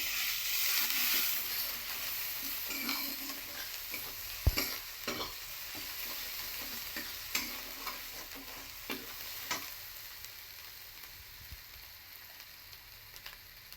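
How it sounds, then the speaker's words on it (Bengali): Garlic and ginger paste sautés in a pan for an egg bhuna, a soft steady sizzle broken by sharp spoon knocks and stirring scrapes, fairly quiet and with no voices. "রসুন বাটা আর আদা বাটাটা দিয়ে দিলাম। এবার আমি একটু ভালো করে কষে নেব।"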